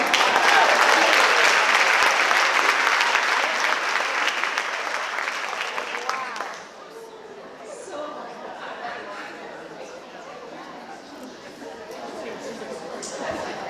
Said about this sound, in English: Give a round of applause for Kit.